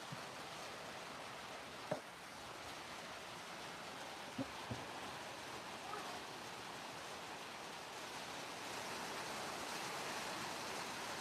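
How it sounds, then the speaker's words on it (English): Steady rain falls outdoors as a broad, even hiss throughout, with a few brief knocks and taps standing out near the start and middle. "It's definitely raining now."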